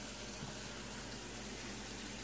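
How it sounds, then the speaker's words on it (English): Water pours steadily into a cooking pot in a home kitchen, a continuous soft gushing splash that holds at even level throughout with no talk. "And I'm adding in about one more cup of water, just a little bit, just to make sure that I have enough in there."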